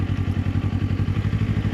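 A warmed-up motorcycle engine runs steadily close by, its rapid even thumping pulse continuous and fairly loud with no talking over it.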